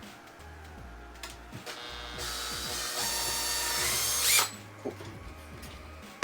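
A power tool cuts flex cuts into carbon fiber skate boots over scrap wood, a loud high whine that rises and sharpens before stopping abruptly, with a short spoken word near the start.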